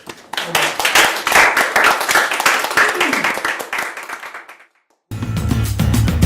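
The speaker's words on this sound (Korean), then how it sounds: "회장님께 박수 한번." An audience at a business talk with a company chairman claps loudly for about four seconds, a close, crisp patter of many hands that fades out. After a brief silence a different, rumbling sound follows.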